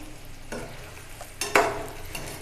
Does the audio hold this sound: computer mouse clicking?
no